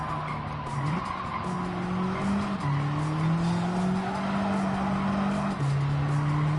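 A race car in Gran Turismo 7 brakes hard into a corner, its tyres squealing and skidding in a steady, loud whine over the continuous engine roar, the pitch stepping as the car slides.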